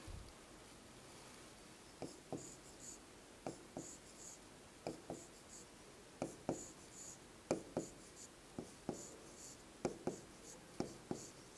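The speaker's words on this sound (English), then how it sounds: "let me draw here" Pen or marker strokes drawing a diagram by hand, for a biology lesson on DNA fingerprinting: short scratchy strokes, quiet and close, coming in irregular bursts and growing more frequent toward the end, with no talk.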